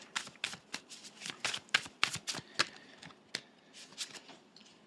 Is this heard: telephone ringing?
no